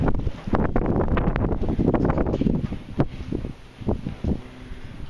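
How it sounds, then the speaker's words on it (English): Wind gusting outdoors on a cool October day, buffeting the microphone in a steady broadband roar with rustling swells and brief louder bursts throughout. "It's about 40 degrees, the wind's blowing about"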